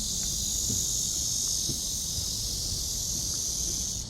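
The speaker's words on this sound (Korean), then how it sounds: "오늘은 매미소리가 우릉차네요" A continuous high, shrill droning of cicadas at Gwanggyo Lake Park in July fills the air evenly from start to finish, with faint low rumbling underneath and no talking.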